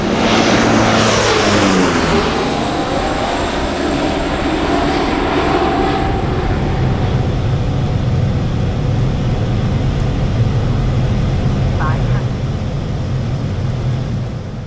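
A Cessna Caravan floatplane on final approach drones loudly and steadily with its turboprop engine, a sustained close roar whose pitch sweeps down early on before settling into a constant hum.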